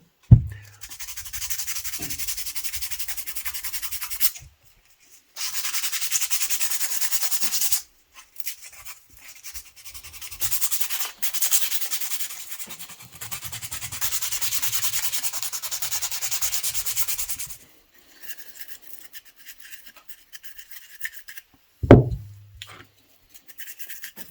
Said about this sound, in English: made sure that the glue is dried up on them, and just sanded them